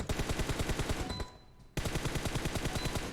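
Rapid automatic gunfire in PUBG Mobile aimed at moving targets, loud close bursts of evenly spaced shots, a brief pause, then another long burst.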